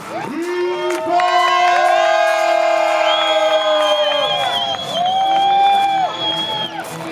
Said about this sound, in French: Un tour d'applaudissements pour Ripper.